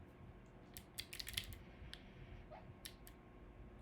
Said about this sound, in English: My keyboard is the ZSA Voyager with chalk white.